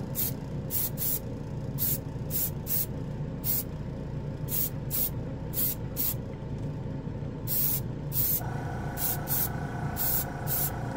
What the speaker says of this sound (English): There goes the compressor.